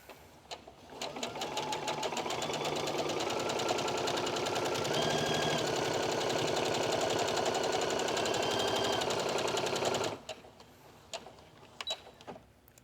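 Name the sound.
sewing machine stitching espadrille fabric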